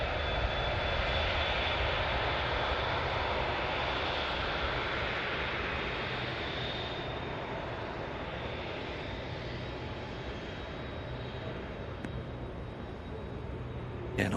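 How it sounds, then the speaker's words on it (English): An Emirates Airbus A380 taxis at Manchester Airport, its jet engines giving a steady, loud, broadband roar that holds evenly for the whole stretch. "Emirates A380 definitely looks to be heading back to stand to me."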